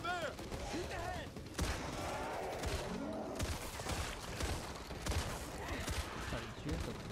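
Rapid gunfire bursts from a shooter video game crackle close and loud over a steady game soundscape, with voices talking at the start.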